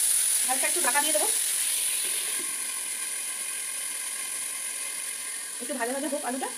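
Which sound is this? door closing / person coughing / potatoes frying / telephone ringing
potatoes frying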